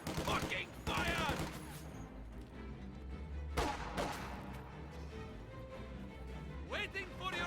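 Video game gunfire crackles in rapid bursts and sharp volleys, with a loud single report partway through, under excited talk.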